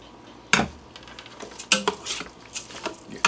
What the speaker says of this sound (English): we'll get our rinsed and drained 2 cups of rice, add that to the pot. Give that a good stir.